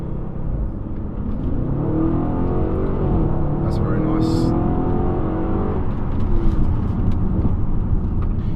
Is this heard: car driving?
yes